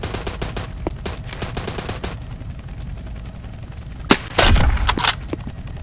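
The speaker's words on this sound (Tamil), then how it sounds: "அதுதான் ஷாட்டு, செம்ம ஷாட் இது." Video game gunfire in a ground war battle: a rapid string of shots in the opening seconds, a lull, then a few loud, sharp blasts and a short burst near the end, with no talk.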